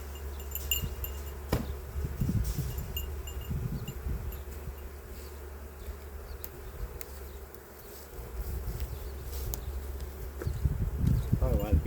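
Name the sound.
honey bees buzzing during a beehive inspection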